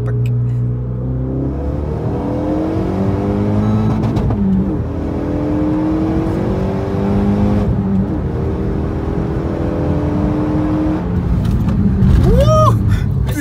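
A Renault Sport car revs and accelerates through several gears, the engine note climbing and dropping repeatedly up close, with crackling exhaust and voices talking over it.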